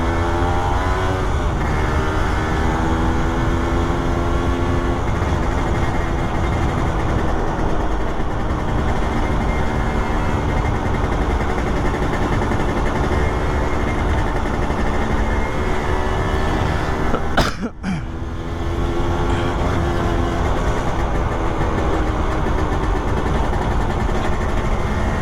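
Suzuki Satria 120 motorcycle engine running steadily while riding through a morning street, a continuous close hum with a brief sharp disturbance partway through.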